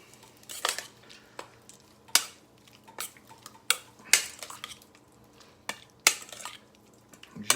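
A utensil mixes shrimp and avocado salad in a bowl, giving a steady series of sharp clinks and scrapes against the dish with soft wet stirring between them, close and alone.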